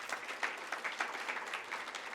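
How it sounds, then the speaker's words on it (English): An audience at an energy developer investor pitch event claps briefly, a soft, fairly distant patter of applause lasting only a couple of seconds. "So maybe a round of applause for our contributors"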